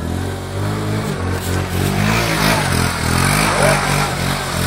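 Motorcycle engine revving hard during a muddy dirt rally, a steady loud mid-pitched drone with rising and falling revs and some clatter, close and continuous with no talk.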